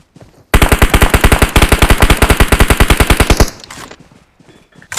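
Rapid automatic gunfire in the PUBG Mobile video game on the Sanhok map, a loud, close burst of about three seconds of evenly spaced shots, followed by fainter scattered game sounds, with no talking.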